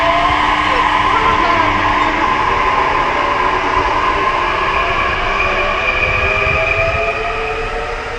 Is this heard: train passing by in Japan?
yes